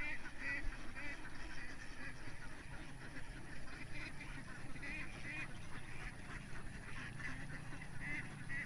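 A large flock of ducks on a Philippine duck egg farm for balut quacks continuously at a moderate distance, with overlapping calls forming a busy chorus and no clear talk over it.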